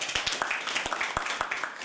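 Audience clapping at a gathering, a brief burst of scattered, uneven hand claps close by, some claps standing out individually over a low murmur of room noise.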